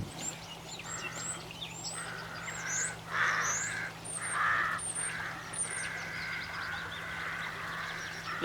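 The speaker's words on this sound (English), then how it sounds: "Looks like the rooks are paying me a wee visit" Rooks cawing in a loose flock outdoors, with repeated harsh calls that overlap at moderate distance above a steady low background hum, and no voices.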